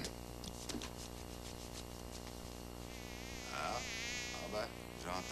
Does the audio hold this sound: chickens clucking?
no